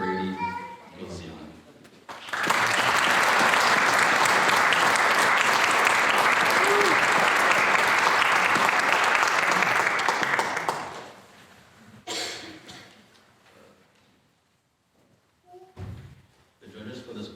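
An audience at a youth awards ceremony bursts into loud, sustained applause lasting about eight seconds before it fades, with speech before it and scattered voices, thumps and shuffling afterward.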